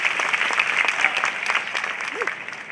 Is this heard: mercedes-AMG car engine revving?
no